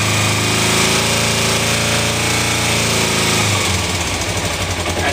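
A 2007 Kawasaki Ninja 250 starts on choke with its side stand down, settling into a loud, steady, high idle close by, then the rev drops and the running note turns rougher toward the end.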